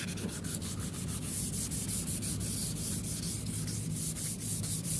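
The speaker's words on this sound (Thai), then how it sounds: "ขัด ขัดเอาคราบเหลืองมันออกครับ ขับแล้วทำให้ละเอียด" Fine-grit wet sandpaper is rubbed back and forth across a yellowed, oxidized car headlight lens, making a steady rhythmic scratching that repeats in quick even strokes, close and continuous with no talking.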